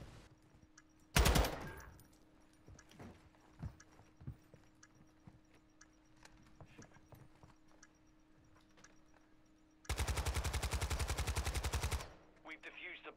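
Two loud bursts of automatic gunfire in a Call of Duty MW2 match, a brief one early and a longer rattling burst near the end, separated by quiet stretches with scattered faint game sounds.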